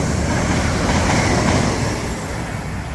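Class 807 electric train on the West Coast Main Line at Rugby, running from Crewe to London Euston, roars past in a loud continuous rushing wash of wheel and air noise that eases slightly at the end.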